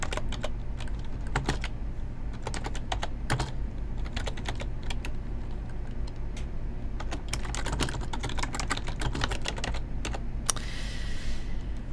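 Fingers tap on a computer keyboard in quick irregular bursts of clicks, close but soft against a quiet low hum, ending with a brief brushing rustle.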